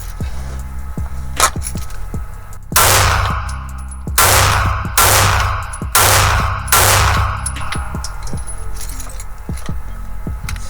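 Handgun shots fired during a concealed-carry holster test, heard as a sharp broadband blast near 1.4 s, then four loud, evenly spaced reports about a second apart, with clinks and mechanical clicks between them.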